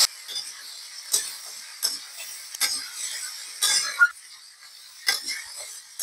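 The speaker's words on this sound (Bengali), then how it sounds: "পেঁপেগুলো দেওয়ার পর ফোড়নে আমি ভালো করে নাড়িয়ে নেব এবং এভাবে ভাজতে থাকবো।" Boiled papaya stirred and fried in a cumin and green chili tempering, a spatula clinking and scraping against the pan in repeated bursts over a light, steady sizzle, with no talking.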